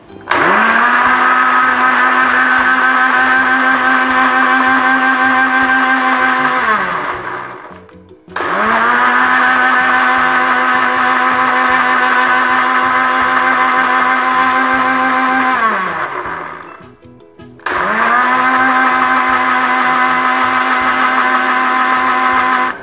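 Kitchen blender grinding pandan leaves into a fine juice, running loud and steady in three long bursts with brief pauses between, each spin winding down before restarting.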